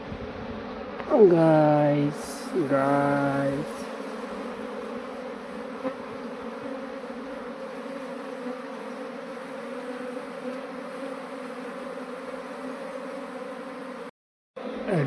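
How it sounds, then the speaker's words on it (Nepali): A honeybee swarm moved into a modern hive drones steadily in a dense, close buzz throughout, with a brief louder whine early on and a voice speaking briefly. "हाम्रो सबै सम्पूर्ण मौरी अब यहाँ सिफ्ट भइसक्यो"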